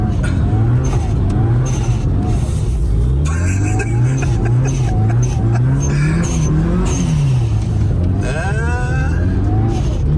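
A Mitsubishi Evo 6 driven flat out on slippery snow: a loud, close engine rising and falling in pitch as it revs hard and shifts, with someone talking briefly over the roar.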